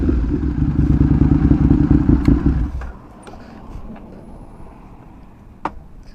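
An Aprilia RSV1000R motorcycle engine runs loud and close for under three seconds with a steady rumble, then cuts off, leaving quiet road ambience with a few clatters and thumps.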